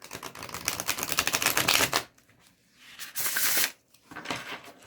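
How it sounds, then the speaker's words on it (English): A tarot card deck with new cardstock is riffle shuffled twice, a dense fluttering burst of cards lasting about two seconds, then a shorter second riffle and a softer bridge, close and alone. "Let's try and do a riffle and see how they go"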